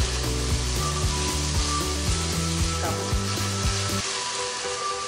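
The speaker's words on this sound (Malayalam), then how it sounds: "ഇതിലേക്ക് 3 വലിയ സവാള കനം കുറച്ചരിഞ്ഞത് ഇട്ട് കൊടുക്കാം." Thinly sliced onions fry with salt in oil for Thalassery chicken dum biryani, a loud continuous sizzle that holds steady with no talk, under a sustained musical background that cuts out near the end.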